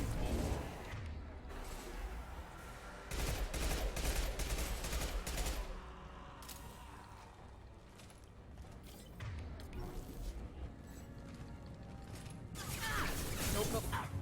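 Rapid SMG gunfire from the Mass Effect Legendary Edition shooter in dense bursts over about fourteen seconds, mixed with explosions, shield and game effects, loud and close throughout, with a lull midway.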